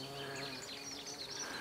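A bee buzzes among poppies in a garden, a close, continuous humming drone with slight wavering pitch, with soft birdsong faintly behind it.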